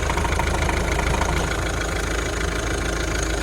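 A car engine idles steadily at close range, a smooth continuous rumble with no voices and no change in pitch.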